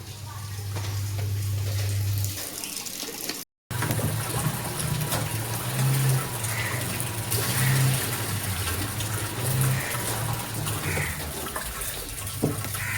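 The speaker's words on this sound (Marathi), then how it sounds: "नळाला आमचं पाणी दाखवू का तुम्हाला?" Water runs from a tap for washing clothes in a steady, continuous gush, with a low hum throughout and a brief cut partway through.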